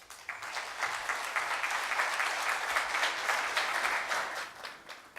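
Audience applause welcoming speakers at the CYBERSEC 2018 conference in Santiago: clapping swells quickly into a full, even roar, holds steady, then tapers off near the end.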